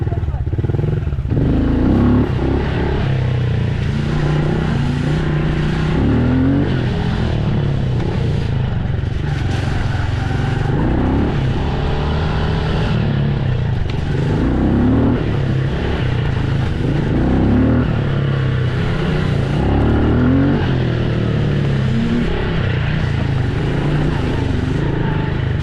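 Dirt bike engine revving up and dropping back in repeated loud bursts, close by in a backyard, with people talking over the engine noise throughout.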